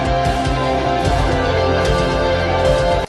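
A dense, sustained orchestral swell with French horn and trombone chords layered over low tones, full and loud throughout.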